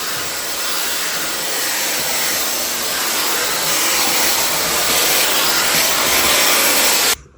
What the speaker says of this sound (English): I'm going to iron one side of the shirt, then we'll compare the difference.